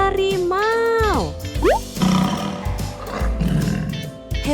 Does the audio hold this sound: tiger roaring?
yes